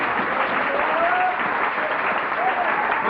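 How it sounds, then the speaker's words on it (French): Steady audience applause fills a hall at a formal gathering, dense and even throughout, with faint voices mixed into the clapping. "Applaudissez s'il vous plaît."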